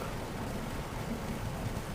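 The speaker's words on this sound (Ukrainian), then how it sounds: "Зараз дуже сильний дощ." Heavy rain pours steadily on a LiXiang L6 car, a dense continuous hiss and drumming heard from inside the cabin with no talk.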